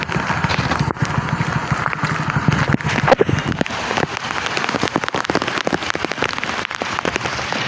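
Rain patters hard on a nearby surface during a red alert in Vadodara, with irregular louder drips and knocks scattered through the steady downpour.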